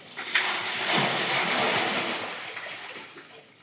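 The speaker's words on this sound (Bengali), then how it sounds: "ওটা কুয়া থেকে পানি উঠাইলাম" A bucket is drawn up from a well, giving a steady broadband watery hiss and splashing that swells early and slowly fades over several seconds, with faint voices in the background.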